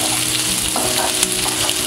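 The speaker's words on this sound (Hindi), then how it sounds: "इन सभी को हम फ्राई कर लेते हैं" Green, yellow and red capsicum frying in a pan for chilli paneer hiss with a loud, continuous sizzle, with a few light stirring knocks mixed in, close by and with no talk.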